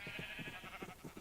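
Several sheep in a survival video game bleat in quick succession, short wavering calls repeating close together, with no talk over them.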